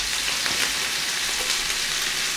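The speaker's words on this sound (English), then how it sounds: "Oil that bad boy up. Ooh. That sizzle." Steady, dense sizzling of hot oil in a pan, a continuous crackling hiss with small pops, close and fairly loud, no voices.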